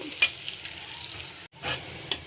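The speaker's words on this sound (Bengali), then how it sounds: "তো আমরা কিছুক্ষণ পেঁয়াজটা ভেজে নিব" Onions fry in a pan with a continuous close sizzle, broken by a couple of brief scraping stirs and a momentary cut in the sound.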